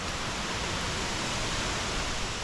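A large waterfall on the Road to Hana in Maui, a steady, dense roar of falling water that stays even and fills the whole moment, with no voices.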